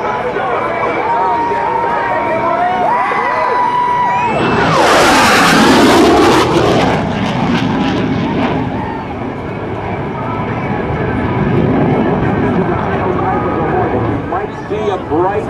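F/A-18C Hornet jet making a high-speed pass from the right at an airshow, a loud broadband roar swelling to a peak midway and then fading into a long rumble, with a commentator talking over it.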